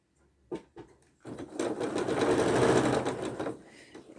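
A sewing machine stitching small 1.5 inch quilt squares for churn dash and log cabin blocks: a few short taps, then a loud, steady mechanical whir for about two seconds before it winds down.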